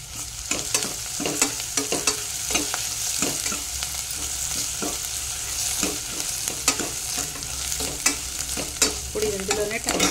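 Curry leaves and ginger-garlic paste fry in a pan for bitter gourd stew, a steady sizzle broken by repeated scraping stirs at a close, even level with no talk.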